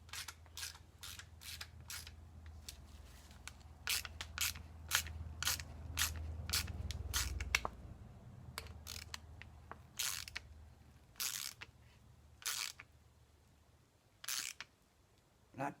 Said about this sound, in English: We're just going to tighten this back down.